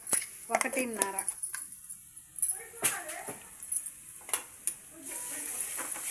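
Onion paste frying in a pan for manchurian, with stirring scrapes and a light sizzle under intermittent talk.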